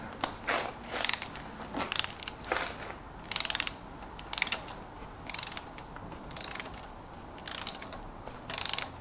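A hand ratchet tightens rocker arms on a Gen 4 LS engine, clicking in short, repeated bursts of pawl ticks separated by brief pauses, close and fairly quiet.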